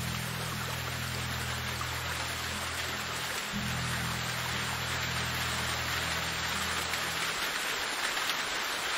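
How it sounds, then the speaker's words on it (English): Heavy rain in the medieval survival game Medieval Dynasty, a loud, dense and unbroken rushing patter that fills the whole stretch with no voices over it. "The rain is very loud in this game."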